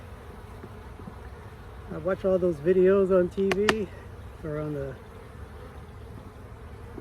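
Aggressive honey bees buzz steadily around an open hive during a quick check for swarm cells, a low hum running throughout while someone talks over it.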